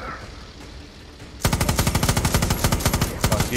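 Turret machine gun in the Far Cry 6 video game opens fire after a quiet ambient stretch, a loud, steady stream of rapid automatic shots that holds to the end.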